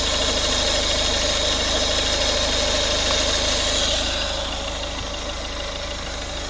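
A 2011 Volvo V50 1.6 D2 diesel engine idles steadily with a low, even rumble and faint mechanical knocking, no voices; the sound eases slightly in level toward the end.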